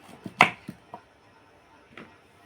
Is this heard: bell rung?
no